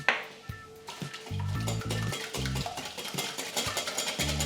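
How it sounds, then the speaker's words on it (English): A whisk clatters against a bowl, beating flour, milk and egg into a raggmunk batter; the brisk, uneven scraping taps run continuously, close and fairly loud. "give it a whisk"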